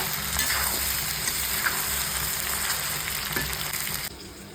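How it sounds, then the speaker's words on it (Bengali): Chicken pieces frying with spice paste in a pan for chili chicken, a steady loud sizzle with occasional stirring scrapes, dropping off abruptly near the end. "এইবার আমি চিকেনটাকে অ্যাড করে দিয়েছি, ভালো করে ভেজে নেব।"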